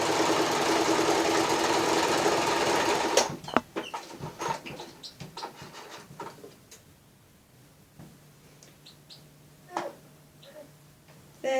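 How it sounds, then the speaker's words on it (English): A domestic sewing machine runs in a loud, continuous whirring burst while stitching down the folded hem of a fabric cutlery pouch, then stops, leaving scattered clicks and handling of fabric. "and just sew that down."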